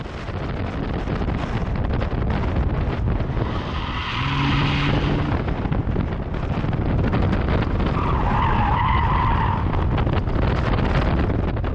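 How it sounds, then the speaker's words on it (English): A BMW E39 530i on 17-inch wheels with 45-profile tires understeering through a corner, the tires squealing in two drawn-out tonal bursts over steady road and wind roar, close and loud. "even though you hear some tire screeching, it really isn't that bad"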